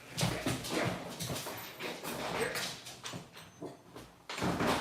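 A pet dog whimpers indoors amid clattering and a door opening at the back of a house to let her out; a person talks excitedly over the bumps and whines.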